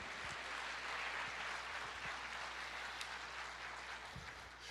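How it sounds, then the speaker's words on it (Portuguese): Congregation in a church service applauding, a continuous, fairly soft patter of many hands clapping that fades a little toward the end, with no one speaking. "Aplauda o Senhor."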